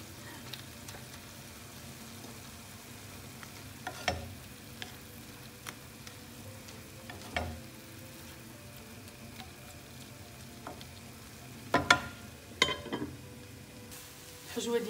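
Chicken filling for Moroccan-style nems sizzles quietly in a pan, a soft, steady frying crackle with occasional louder scrapes and clatters from stirring.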